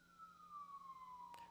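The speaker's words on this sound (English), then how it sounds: "Sorry about the sirens, guys." A faint, distant emergency-vehicle siren outside, heard as one slow, steadily falling wail with no voices over it.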